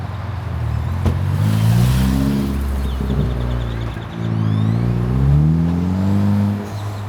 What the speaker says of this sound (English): You hear that turbo from all the way over here?